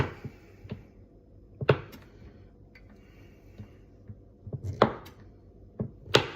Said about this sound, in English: just finish chopping up these little bits of copha